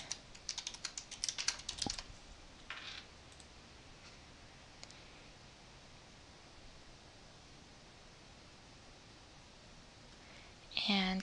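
Quick bursts of typing on a computer keyboard as login details are entered: a clicky flurry at the start and another near the end, with near silence between.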